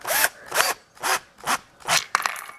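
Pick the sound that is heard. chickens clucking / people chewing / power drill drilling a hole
power drill drilling a hole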